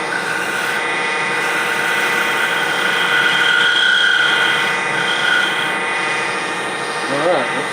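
Wood lathe spins a large hollow globe Christmas ornament while a spindle gouge cuts, giving a steady close whirring hum with a faint high whine throughout, a brief scraping touch near the end.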